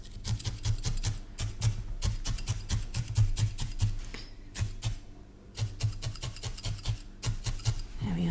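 A felting needle repeatedly stabbing wool on a needle-felted fox, giving rapid rhythmic scratchy pokes in bursts with brief pauses, close and fairly quiet.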